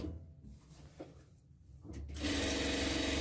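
Near the end a sewing machine starts up and runs steadily on pant fabric, a close, even motor whir after a second of quiet handling noise and faint rustles.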